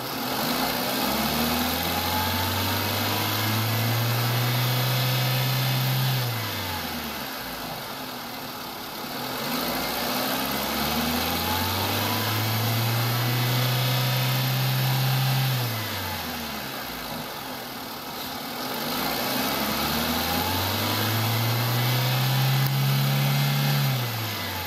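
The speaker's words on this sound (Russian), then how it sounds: "Работа двигателя на высоких оборотах." A 2014 Nissan Almera G15's 1.6-litre 16-valve K4M engine is revved hard three times in a row, each run climbing in pitch, holding briefly, then dropping back to idle. The sound is close, loud and steady, with no voices.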